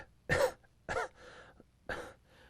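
A person gives a short run of dry coughs and throat-clearing sounds, three sharp loud bursts with softer breathy noises between them, close to the mic in a quiet room.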